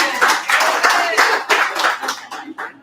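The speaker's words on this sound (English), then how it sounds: "Now a round of applause for that jumper." A handful of audience members at a pub poetry reading clap in uneven bursts, the claps loud and close, pulsing then trailing off into a few separate final slaps.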